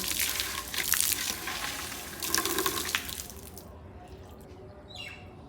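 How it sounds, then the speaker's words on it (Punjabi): Water gushes from a tap in a steady splashing stream, then cuts off, leaving faint drips and a distant bird chirp. "ਟੂਟੀ ਥੋੜੀ ਜਿਹੀ ਰੇਖਾ ਘੱਟ ਛੱਡਣੀ ਜੀ ਕੱਪੜੇ ਭਿੱਜਦੇ ਆ"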